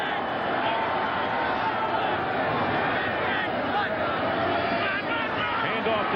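A steady roar of football stadium crowd noise at a very cold 1989 Minnesota Vikings vs Cleveland Browns game fills the whole stretch evenly, with a commentator speaking over it.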